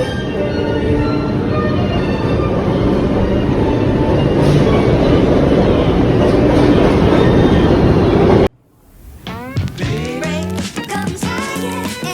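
A New York City subway train rides along with a loud, continuous roar and rattling of wheels on rails, then cuts abruptly to a quieter stretch with a tonal squeal and clatter.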